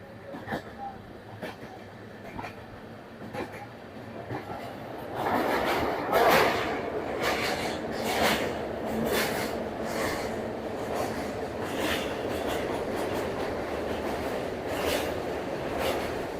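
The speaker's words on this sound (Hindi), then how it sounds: "तो अपनी ट्रेन 5 मिनट रुकने के बाद खुल चुकी है बैंडल जंक्शन से" An LHB-coach Sealdah–Ballia Express pulls out of Bandel Junction. Inside the carriage the rumble builds into a steady rolling roar with rhythmic clacks of wheels over rail joints.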